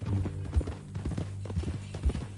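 Horse hooves clip-clop on the ground in the Red Dead Redemption 2 video game, a handful of close, evenly paced thuds at a walking gait.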